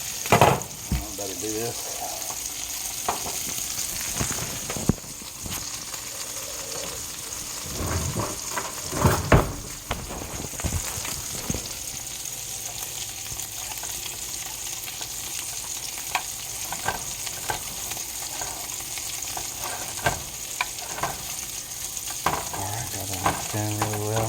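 Cooked pasta tipped into a hot pan and stirred, giving a steady loud sizzle and frying hiss with scraping stirs and a few louder clatters, close up, while someone speaks briefly over it.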